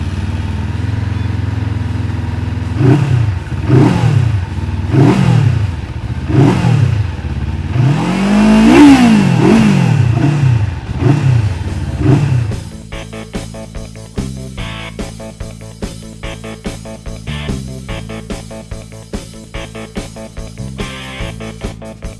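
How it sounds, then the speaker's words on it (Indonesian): SM Sport SM3 motorcycle engine starting and running nearby, with a string of loud rising revs in the first twelve seconds, then settling into a steady, clattering idle. "sekarang langsung kita nyalain aja nih, dan kita dengerin suara mesin dari SM Sport SM3 ini"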